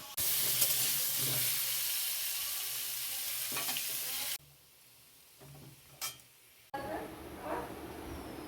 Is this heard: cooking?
yes